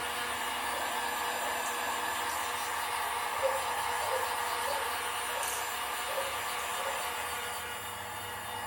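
Heat gun blowing a steady, even hiss of hot air over thin wet paint on a fishing lure, continuous and close, fading slightly toward the end.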